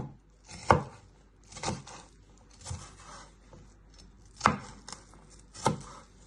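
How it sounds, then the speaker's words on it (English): A knife chops onion finely on a cutting board in five distinct, well-spaced thuds with soft scraping between them, close and clear, with no talking. "just chop it into little pieces"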